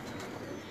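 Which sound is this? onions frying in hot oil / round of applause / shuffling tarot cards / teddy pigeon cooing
teddy pigeon cooing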